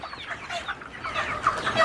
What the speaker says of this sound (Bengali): কিভাবে মুরগিগুলো খায় একটু দেখেন